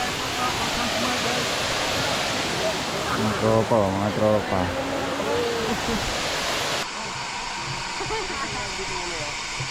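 Steady rushing water roars in the background on Siquijor island, Philippines, while a man calls out briefly over it.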